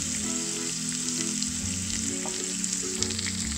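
Thinly sliced radish sizzles and fries steadily in a pan with roasted dals, a continuous close crackle with faint stirring and no talk.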